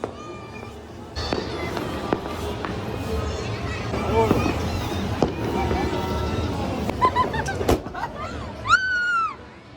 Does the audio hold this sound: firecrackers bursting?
yes